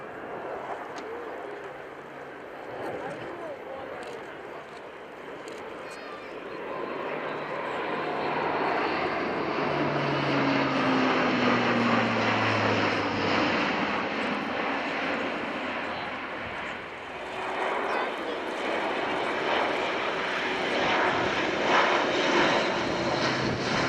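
Military transport aircraft built by Airbus Defence and Space taking off at the RIAT 2015 airshow at RAF Fairford, its engine roar swelling and holding steady as it banks into a right turn, with a falling engine tone.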